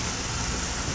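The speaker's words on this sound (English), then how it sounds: "you can hear the sizzle" Seasoned meat sizzling on a hot cooking surface, a dense, steady crackling hiss that stays close and even throughout without pause.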